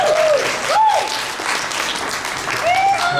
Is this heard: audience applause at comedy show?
yes